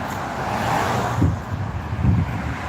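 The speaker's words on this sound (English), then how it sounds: "Cars are speeding." Steady roadway rumble of cars speeding past on a road during a jog, with two louder low swells as vehicles pass close by amid constant wind-buffeted traffic noise.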